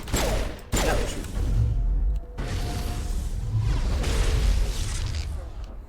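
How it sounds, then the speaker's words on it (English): Gunfire in the video game Breakthrough the Sea of Stars: loud, dense bursts and booming shots fill the clip almost continuously, with brief gaps between volleys. "Now we're shooting."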